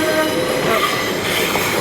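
A noisy Pacer diesel railcar rumbles loudly and steadily on the line, its rattling wheels and running gear making a continuous close-up din.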